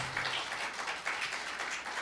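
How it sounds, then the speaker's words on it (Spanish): A church congregation applauds during a service, a short, soft, steady patter of many hands heard from some distance. "Denle un aplauso al Señor"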